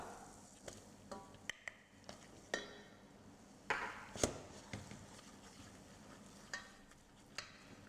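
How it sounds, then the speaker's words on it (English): Flour stirred into melted butter for a souffle roux makes quiet scraping and soft taps of a utensil against the pan, a few sharper clicks among low, gentle stirring. "Stir that in and add your flour."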